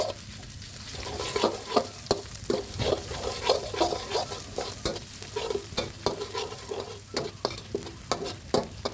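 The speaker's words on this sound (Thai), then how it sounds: "แล้วก็นำพริกกระเทียมที่เราตำเอาไว้ลงไปผัดให้หอมก่อนนะครับ" Pounded chilli and garlic stir-fried in a little vegetable oil, with a steady sizzle and frequent sharp scraping strokes of a spatula against the pan, close and fairly loud.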